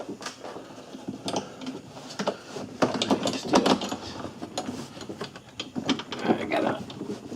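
A gear wrench ratchets a 10mm bolt on a Buick LeSabre front window regulator, giving close, uneven bursts of clicking and metallic scraping inside the door.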